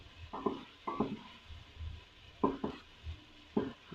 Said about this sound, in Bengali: মশলাটা একটু ভাজা ভাজা করি মশলাটা